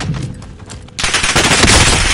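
Rapid automatic gunfire in a video game, a quieter burst then a loud dense barrage of close shots that runs continuously to the end, no talk over it.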